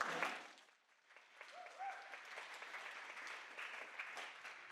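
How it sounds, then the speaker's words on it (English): An audience at a pediatric palliative care presentation breaks into moderate clapping after a brief lull, a fairly quiet, even patter of hands lasting a few seconds. "We clap for that."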